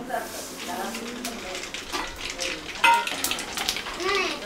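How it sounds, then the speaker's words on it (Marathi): Mustard seeds spitting and crackling in hot oil for street-style vada pav, a steady frying sizzle beneath someone talking over it. "तुम्ही बघू शकताय तेल गरम झालेलं आहे। सर्वात अगोदर ताईने टाकले राई"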